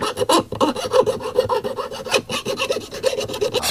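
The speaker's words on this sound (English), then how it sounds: "Just gotta deburr the sides, I guess." Rapid rasping and rubbing strokes as a freshly cut part for a 1988 Evinrude 200 hp V6 looper fuel pump has its sides deburred by hand, close and steady with no talk.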